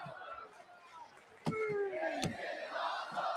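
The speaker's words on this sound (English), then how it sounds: "This is the justified, this is Dragon awesome Lee chant" A WWE Raw arena crowd chanting for Dragon Lee, a big rhythmic roar of many voices swelling partway through and staying loud.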